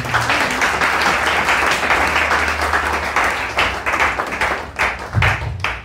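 A church congregation at a Sunday service applauds the king with loud, sustained clapping and some cheering voices. The clapping fills the space for several seconds, then thins out toward the end.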